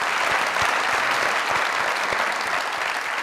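Studio audience at a comedy talk show breaking into loud, dense, sustained applause, many hands clapping together at close range.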